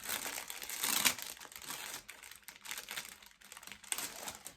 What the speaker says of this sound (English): Excuse the rustling.